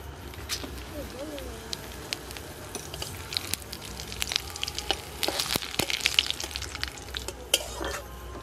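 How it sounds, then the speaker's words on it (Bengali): Bay leaf, dried red chilli and whole cumin seeds crackle and sizzle in hot oil, with dense spitting pops and sharp bursts growing busier toward the end, close and fairly loud. "গরম তেলের মধ্যে তেজপাতা, শুকনো লঙ্কা, গোটা জিরে দিয়ে দেব"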